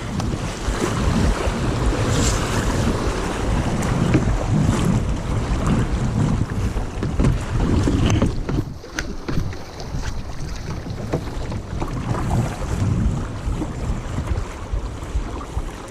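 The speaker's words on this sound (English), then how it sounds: "You don't want to hit the white caps too much." A canoe paddles through choppy whitecap waves in the Allagash wilderness, with steady loud splashing, slapping water against the hull and gusting wind buffeting the microphone throughout.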